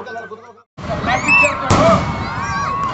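Fireworks go off at the closing ceremony of a district police annual games, with whistling rockets and a sharp burst under crowd noise and voices in the background.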